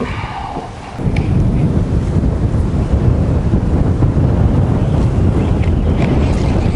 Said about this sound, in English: Hard to feel in this wind.